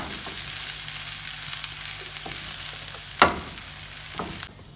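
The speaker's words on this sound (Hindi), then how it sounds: "अब 2 से 3 मिनट अच्छी तरह से इस मिक्सर को हम फ्लेम पर पकाएंगे।" Potato filling mixture for aloo kachori cooks over a medium flame, giving a soft steady sizzle with occasional stirring scrapes and one sharper clatter near the end.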